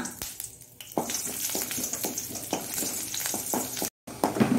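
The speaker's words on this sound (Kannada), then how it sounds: "ಎಣ್ಣೆಯನ್ನು ಹಾಕ್ಕೊಂಡು ಈ ಸಿಪ್ಪೆ ಸುಲಿದ ಬೆಳ್ಳುಳ್ಳಿಯನ್ನು ಸಣ್ಣ ಉರಿಯಲ್ಲಿ ಸ್ವಲ್ಪ ಫ್ರೈ ಮಾಡಿಕೊಳ್ಳೋಣ" Peeled garlic cloves sizzle in oil over a low flame, a steady crackling fry broken by sharp scraping stirs and clinks at irregular intervals, close and fairly loud, with one brief dropout near the end.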